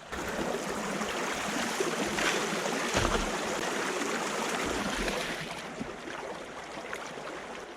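Water sloshing and rushing as a gold sluice box is cleaned out into a pan, with a dense continuous wash and a couple of low thumps, without talk.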